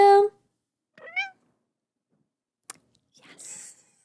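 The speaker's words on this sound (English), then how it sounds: "This is Willow, our cat. Say hi, Will." A pet cat gives a short meow near the start, then a softer chirping meow, followed by a small click and faint rustling in a quiet room.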